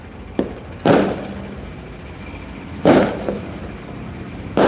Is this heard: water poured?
no